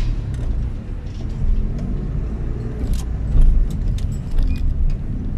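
A car pulls away during a driving exam on a city street, its engine a steady low rumble heard from inside the cabin with faint rattles and jingles, and no talk over it.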